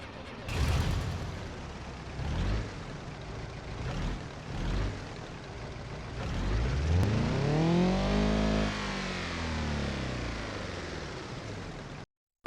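A car engine in the BeamNG.Drive video game revs in several rising bursts, then a long swelling, warbling roar during a crash sequence before cutting abruptly to silence.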